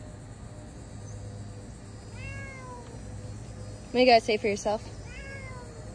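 A pet cat meows several times, a few soft drawn-out calls followed by a louder burst of quick, strained meows, close by over a low background hum, with a person speaking briefly.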